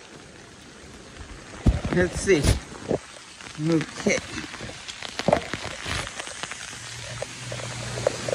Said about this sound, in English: give you guys a little bit of how it looks out here in the rain